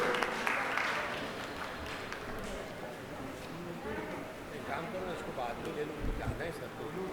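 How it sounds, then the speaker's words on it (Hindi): Audience applause at an Urdu festival award ceremony and book launch in Mumbai, a steady wash of clapping sustained throughout at moderate level, with a voice talking over it. "तालियों की गूंज में"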